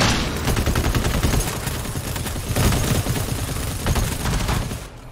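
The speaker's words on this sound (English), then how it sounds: "Maybe it was just because we were all shooting at the same time" Several guns firing at once in the co-op shooter GTFO, a dense, continuous barrage of rapid overlapping shots that stays loud for the whole stretch before cutting off at the end.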